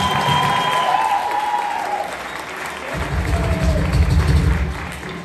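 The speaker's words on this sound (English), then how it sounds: "Let's give them a round of applause for putting us on." Audience applause at a live acoustic concert set, steady crowd clapping throughout with a couple of cheers rising over it and some low thumping near the end.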